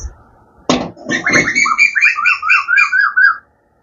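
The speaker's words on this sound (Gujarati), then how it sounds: "મસ્ત ચકલા બોલા છે।" Sparrows chirp in a quick run of bright, repeated notes after a short thump. The calls are close and clear, with no talk over them.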